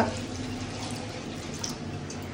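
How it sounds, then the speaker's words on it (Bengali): Water pours steadily into a kadai (wok) before masoor lentils are added for boiling: a continuous, even rush of liquid lasting the whole short stretch, with no speech over it. "এরপর কড়াইয়ের মধ্যে জল দিয়ে দিই"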